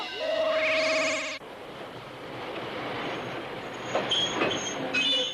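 In a cartoon, a train stops at a station: a loud rising squeal of braking wheels for about a second, then a steady rumbling rail noise with faint clanks and a short squeal at the end.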